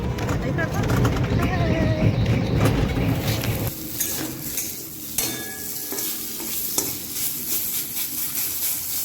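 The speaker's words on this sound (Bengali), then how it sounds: "এখানে নিম বেগুন ভাজা বসিয়েছি" Eggplant with neem leaves fries in a pan with a steady, close sizzle and occasional stirring clatter, while voices talk over it in a busy village kitchen.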